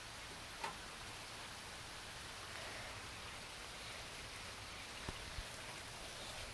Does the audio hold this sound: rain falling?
yes